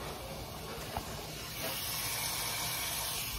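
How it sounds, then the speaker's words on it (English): A cheeseburger patty sizzles in a hot pan, a loud, steady hiss of frying fat that swells slightly partway through and continues alone without any talking. "Hear that sizzle, man. That is a nice sizzle."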